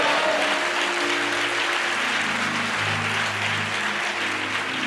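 Steady applause from a church congregation during a night prayer service, a continuous even wash of many hands clapping, with a faint tonal background hum beneath.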